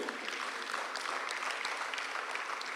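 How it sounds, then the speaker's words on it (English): An audience at a talent-development talk claps for a guest, a dense, steady patter of many hands heard from a distance at low level, without speech over it. "Please, a round of applause for him."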